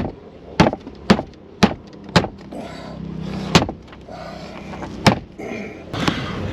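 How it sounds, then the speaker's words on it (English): A door panel on a 2012 Chrysler 300 is punched back into place by hand. Sharp, loud thumps land in an uneven rhythm, about seven hits, with faint rattling of plastic between them. "Give it the old door panel punch."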